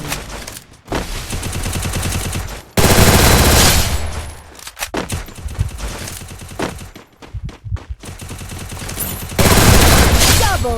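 MP40 submachine gun in the video game Free Fire fires in rapid automatic bursts, loud and close, with brief gaps between strings of shots and game sounds in between.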